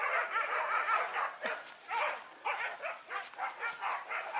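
Hunting dogs bark repeatedly while chasing wild boar in open country, a steady run of sharp yips and barks at moderate distance with some whimpering mixed in.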